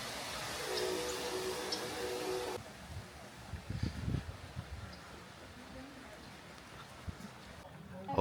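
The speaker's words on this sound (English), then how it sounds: "I hear a train." A train near Blue Springs, Florida, heard at a distance as a low, rumbling roll with some clanking, faint under outdoor ambience and a few brief murmurs of people nearby.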